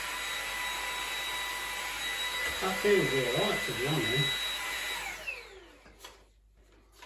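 A LEVOIT LVDC200 cordless vacuum cleaner runs with a steady high-pitched motor whine under brief talk, then winds down audibly, its pitch falling away to quiet.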